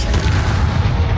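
A Bombarda explosion spell in the video game Hogwarts Legacy, a loud, dense, booming blast that fills the short moment with heavy low rumble and no voice.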